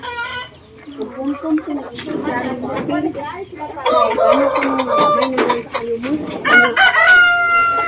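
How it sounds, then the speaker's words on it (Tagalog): Chickens cluck busily nearby while a rooster crows, the farmyard noise close and lively, with people talking over it throughout. "So our chickens is shocked because why we have lots of people in here."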